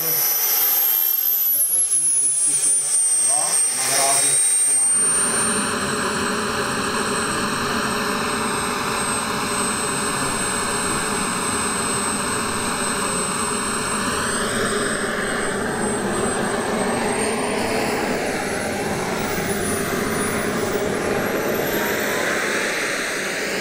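A jet aircraft lands and brakes hard at an air show at Czech Heaven airfield near Ivančice, a loud, sustained roaring whine with shifting engine tones that stays close and powerful throughout, with commentary faintly underneath.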